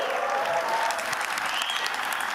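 Audience applause in a conference session hall, a moderate, continuous patter of many hands clapping at fairly low loudness, with no speech over it.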